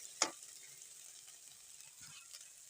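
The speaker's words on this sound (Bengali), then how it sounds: "আমার মশলা কষা হয়ে গেছে দেখো এমনিভাবে কষে নিতে হবে" Spice paste for a village-style magur fish curry is fried and stirred in a pan, giving a faint, steady sizzling hiss broken by a sharp utensil tap near the start and a soft scrape later.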